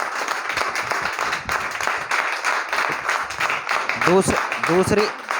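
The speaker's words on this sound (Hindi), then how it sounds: "लड़कों से बोल रहा हूँ, इनके लिए ताली बजाओ।" Boys clap for the girls at the close of a group game, a steady patter of many hands that swells near the end, mixed with voices talking.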